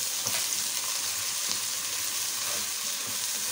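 Ginger garlic paste sizzles with onions in a hot pan for chana biryani, a dense, steady crackle of frying with light stirring scrapes throughout.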